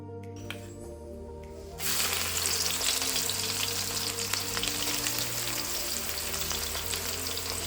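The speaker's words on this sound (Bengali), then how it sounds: "এবার গরম তেলে দেয়া হচ্ছে তেজপাতা, শুকনো লঙ্কা, জিরে ও পেঁয়াজ কুচি।" Bay leaf, dried chilli, cumin and chopped onion hit hot oil after a quiet start, bursting into a loud, steady sizzle and crackle that continues to the end over a low background hum.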